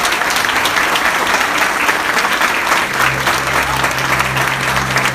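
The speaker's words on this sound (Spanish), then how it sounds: "Un aplauso fuerte para el hermano Eduardo." Loud applause from a congregation for a speaker after a religious debate, dense and sustained clapping close by, with a low voice murmuring underneath in the second half.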